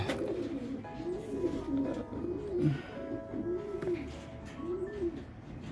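A racing pigeon of the Jansen bloodline, arriving home after a 150-mile race, gives repeated soft, low cooing calls in an even rhythm against steady outdoor background noise.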